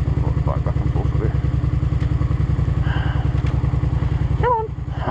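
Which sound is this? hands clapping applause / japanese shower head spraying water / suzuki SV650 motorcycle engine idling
suzuki SV650 motorcycle engine idling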